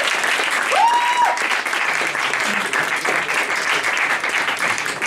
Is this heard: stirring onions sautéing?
no